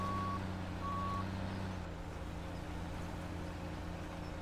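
Truck reversing alarm in Farming Simulator 17 while hauling for a wood chipper, steady high beeps in two spaced pulses over a constant low engine drone that continues after the beeping stops.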